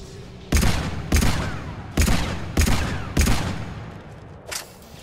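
Gunfire in the video game Mass Effect 3: five heavy, booming shots spaced roughly evenly about a second apart, each with a decaying tail, followed by a fainter sixth shot.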